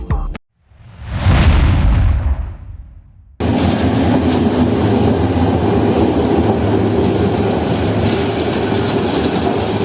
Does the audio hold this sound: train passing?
yes